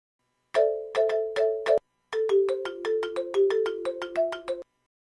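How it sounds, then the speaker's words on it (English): A bright chiming melody plays in two quick phrases, the first a short repeated motif, the second a longer rising run of tones, with no talking. "Reward sounds are produced upon completion of subject's sound."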